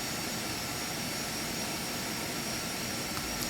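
Phenom 300 business jet engines taxiing in X-Plane 11, a steady broadband whine and rush holding evenly throughout with a thin high tone on top, no talk.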